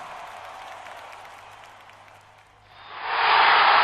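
A big stadium crowd roars in a video game football broadcast at the Orange Bowl after a touchdown, swelling from a quiet murmur into a loud, sustained cheer that fills the last second.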